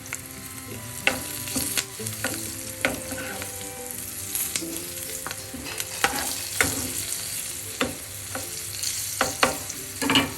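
Green chillies with a pinch of asafoetida sauté in a pan for a yogurt curry, giving a steady close sizzle broken by repeated scrapes and clicks of a stirring spoon, with no talking.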